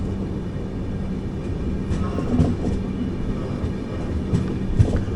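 The 12077 Jan Shatabdi Express runs on the rails between Chennai and Vijayawada, heard from inside an AC chair car as a steady loud rumble with faint wheel clicks and occasional squeaks.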